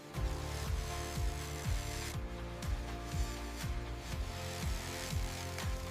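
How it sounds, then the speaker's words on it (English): Excess rubber flash is trimmed from shoe soles made of recycled basketballs, a close, steady mechanical whir broken by regular descending whines and rubbing strokes repeating about every half second. "Trimming the excess flash."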